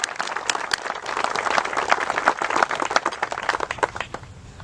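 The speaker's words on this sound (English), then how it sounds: "so let's give them a round of applause" Audience applauding family members at a dedication event, a steady wash of many hands clapping with sharp individual claps standing out, fairly close and continuous before tapering near the end.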